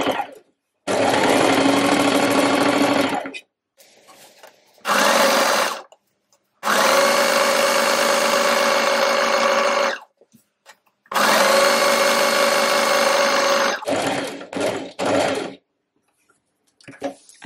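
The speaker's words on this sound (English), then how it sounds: "you can just fold this edge in on itself and sew straight over the top of it" A sewing machine stitches along the folded edge of a reversible button-front dress. It runs in several long, steady bursts separated by short pauses, and each burst has an even whirring hum.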